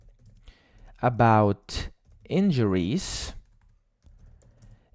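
A computer keyboard clicks as a prompt is typed into an AI writing tool for a literature review. The keystrokes are light and scattered beneath a person speaking.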